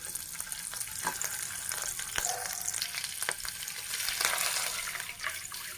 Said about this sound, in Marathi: आलं लसूण आणि हिरवी मिरचीची पेस्ट केली ती पण त्याच्यातच टाकायची